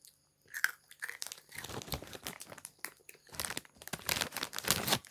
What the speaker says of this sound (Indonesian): Makan taro. Apa kalian mendengarkan suara itu?